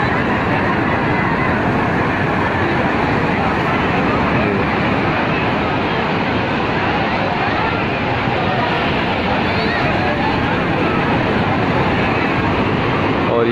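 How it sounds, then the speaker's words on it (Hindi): Strong sea waves at Manora beach in Pakistan make a steady, loud roar of surf with heavy wind buffeting the microphone, continuous throughout with no pauses. "बहुत तेज़ लहर चल रही है।"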